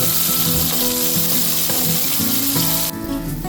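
Tomatoes fry with onions in a pan for Goan kingfish masala curry, giving a loud, close, continuous sizzle with stirring scrapes that drops away abruptly near the end.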